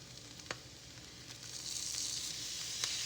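Turkey SPAM fries in a pan with a steady, close sizzle that swells slightly over time, broken by a few sharp pops and crackles.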